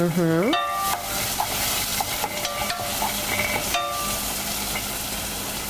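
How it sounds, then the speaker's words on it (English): Garlic sizzling in a pan as it is stirred, a steady close fry with scattered utensil clinks, preceded by a brief rising electronic chime-like tone. "now we'll add the garlic. Oh, that smells wonderful. Stir that to get it going."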